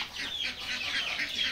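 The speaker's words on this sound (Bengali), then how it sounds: "22টা মুরগি রয়েছে এখানে" Clucking from a group of about twenty-two young layer hens, white and red, around twenty days old, kept on a poultry farm. The calls sound close and continuous, overlapping each other, with no talking.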